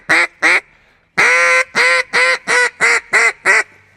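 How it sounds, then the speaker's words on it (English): A double reed duck call is blown hard with a raspy, responsive tone. Two short quacks and a pause are followed by a run of seven rapid, loud, close quacks. "you can lean on it pretty hard for a double reed duck call"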